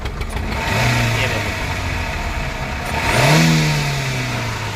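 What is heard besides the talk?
Maruti Eeco car engine revving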